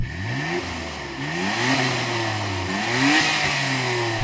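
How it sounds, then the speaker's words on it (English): A Nissan Skyline GT-R R33 engine revs up several times in rising and falling sweeps, loud and close, with no talking over it. "Go on R33, rev up your motor."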